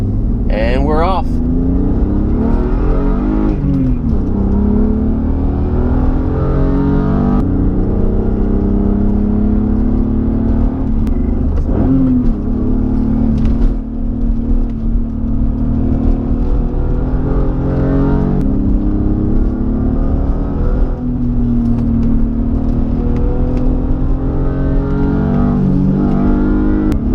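A BMW E36 M3 on Nitto NT05 tires is driven hard in a drift session, its engine revving and droning loudly from inside the car, pitch rising and falling with shifts, while someone talks over it.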